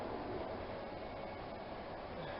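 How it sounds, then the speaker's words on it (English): Steady rumbling hum inside a moving cross-country train, a constant even rolling noise with no voices. "Not a very pleasant train, I know."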